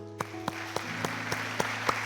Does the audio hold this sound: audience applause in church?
yes